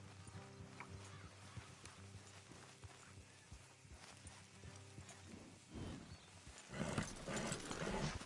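In the video game Red Dead Redemption 2, horse hooves clop steadily over a busy game soundscape, with a horse whinnying toward the end amid rising noise.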